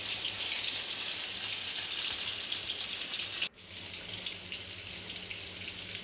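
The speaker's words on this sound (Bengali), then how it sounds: "তেল দিয়ে এবার আমি একটা একটা করে মাছ দিয়ে দিলাম, ইলিশ মাছ।" Hilsa fish pieces frying in hot oil, a dense steady crackling sizzle that dips briefly midway and then carries on.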